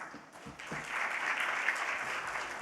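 An audience at a Kenya travel expo partners breakfast breaks into steady, dense applause that builds quickly and holds, with a few scattered voices underneath.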